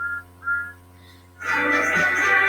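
Two short, high steam train whistle toots, then a loud, steady rush of hissing noise that carries on to the end.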